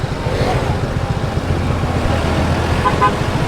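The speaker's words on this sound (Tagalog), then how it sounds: "Ang haba na ng traffic!" Heavy road traffic jam with a constant low rumble of engines and a couple of short horn toots near the end, close and steady, with voices talking underneath.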